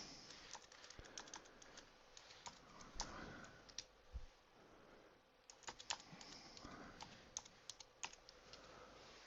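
Fingers type a username and password on a computer keyboard, a run of soft, close key clicks in uneven bursts. Faint bird calls sound in the background, and no one speaks.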